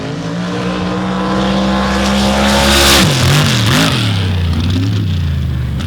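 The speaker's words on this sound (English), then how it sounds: "36 Chevy with a 712 VZ race engine," A 1936 Chevy drag race car with a 712 big block Chevrolet race engine roars loudly up close, launching off the line and accelerating hard with a deep, rising growl that wavers as it climbs.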